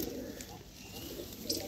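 A pigeon at a home loft coos softly in a continuous low murmur, faint beneath a steady background hum, with a brief clearer call near the end.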